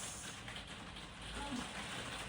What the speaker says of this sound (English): just even listening to the rain on the glazing